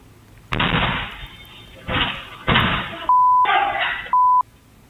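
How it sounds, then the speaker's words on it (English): Several sharp gunshot bursts captured on a security camera crack out in close succession, harsh and loud, with two steady electronic beeps breaking in between. "Security video captured the gunshots ringing out before the offenders then fled the scene"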